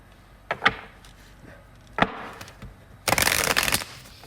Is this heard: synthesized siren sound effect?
no